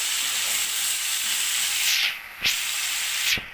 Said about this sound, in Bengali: দিয়ে ভালো করে নেড়ে দেবো।